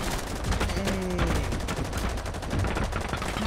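Rapid gunfire in the video game Rainbow Six Siege crackles continuously, loud and dense, with bursts overlapping one another and no pause.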